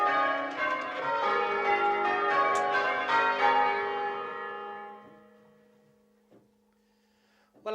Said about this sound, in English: the ancient exercise of bell ringing